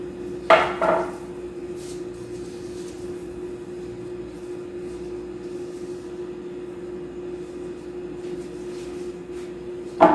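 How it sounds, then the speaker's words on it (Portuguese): A drinking glass pressed down through pastry dough to cut rounds for ricotta pastel gives a short, clear knock near the start and another at the very end, with a steady low hum in between. "E vou cortar aqui a nossa massa."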